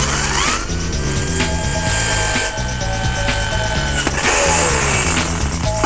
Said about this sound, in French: Allez, on passe à la perceuse.